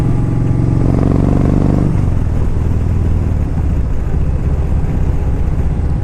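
A 2013 Kawasaki Vaquero cruiser motorcycle rides along in fifth gear, its engine droning loudly and steadily up close, with a higher revving tone at first that drops into a lower, rumbling cruise amid wind noise.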